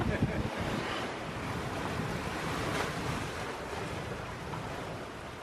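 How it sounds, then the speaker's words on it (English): Steady wind roars across the microphone while ocean waves wash past a sailboat far out on the Pacific, a dense continuous rush at sea with no pauses. "The wind is starting to die down a little bit."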